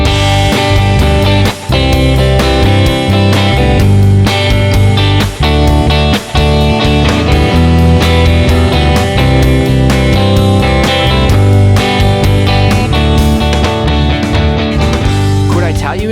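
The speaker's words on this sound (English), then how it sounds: "a chorus strum might sound like this" Guitar strummed in a full chorus pattern, with extra strokes filling the space between beats, playing steadily and loudly for about sixteen seconds with no talking.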